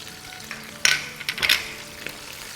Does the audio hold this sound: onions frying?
yes